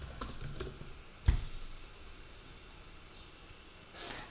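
Computer keyboard typing a plugin search, a quick cluster of close, light key clicks, then one sharper tap, a quiet pause and a final short burst of keystrokes.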